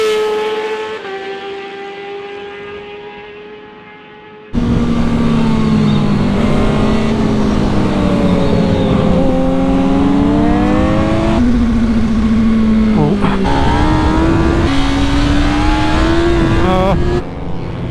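Racing motorcycles on a race track during an endurance race in Benidorm, a loud close engine drone with rising and falling revs, the roar jumping in level after a quieter opening pass.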